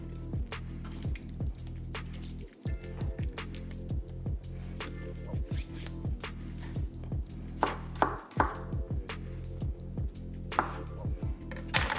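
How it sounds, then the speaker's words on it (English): A knife chops a garlic clove on a cutting board with quick, evenly spaced strikes, close and clear, while slow cooker refried beans with Hatch green chile are prepared. "I'm gonna do one more clove of garlic here."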